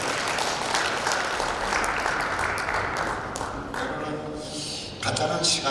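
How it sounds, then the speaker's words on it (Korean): Hall audience at a commemorative lecture festival gives the lecturer a loud round of clapping that holds steady, thins briefly, then swells again near the end, with some voices mixed in. "다시 한번 우리 이기화 감독님께 크게 박수 한번 보내주시기 바랍니다"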